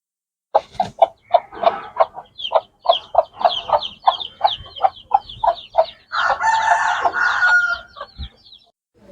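Hens and chicks from Salem cluck in a busy burst of short, evenly spaced calls, followed by a rooster's long crow from close by, with no talking.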